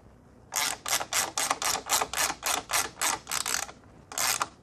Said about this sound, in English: Grab your washer, grab your nut, wind them back on.